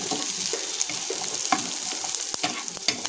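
Potato, beans and carrot fry together in a pan with a steady, close sizzle, while a utensil stirs them with frequent soft scrapes and taps.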